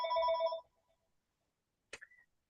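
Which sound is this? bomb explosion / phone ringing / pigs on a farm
phone ringing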